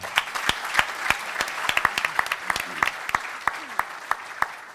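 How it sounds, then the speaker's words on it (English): Scattered applause from a modest audience at a water and government management panel, distinct individual claps standing out over a softer, thinner layer of clapping. "Big round of applause for Tom"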